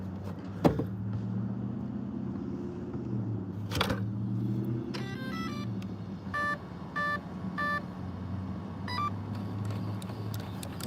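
An Arrma Infraction RC car on 3D printed tires, its motor whirring in rising and falling bursts over a low hum, with sharp clicks and a series of electronic beeps as it powers on.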